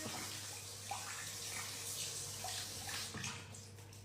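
Water runs steadily over skin while a skin-whitening treatment is rinsed off, a continuous close splashing flow like a tap or bath filling, with no talk.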